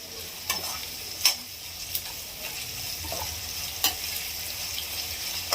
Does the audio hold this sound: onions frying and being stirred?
yes